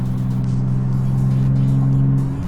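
Nissan 370Z driving through a tunnel, a steady low engine drone echoing off the walls as the car holds speed, loud and continuous with no speech.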